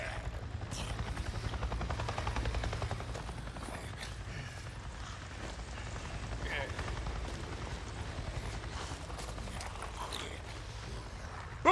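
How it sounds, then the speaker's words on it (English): A helicopter in the zombie-survival game Days Gone passes low overhead, its steady rotor thump rumbling loud and continuous beneath scattered game effects, with a brief sharp burst at the very end. "I just saw a goddamn chopper! A chopper? What are you talking about? A Nero chopper! It just buzzed right over me."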